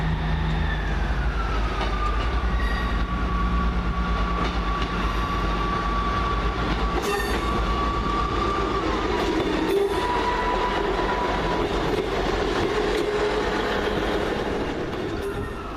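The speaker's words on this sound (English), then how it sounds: "Next up, 1426 Northern Rail service to Leeds via the Settle and Carlisle line." A Northern Rail passenger train departs Carlisle station close by with a steady roar, clacking wheels and a long high squeal that slowly drops in pitch before easing off.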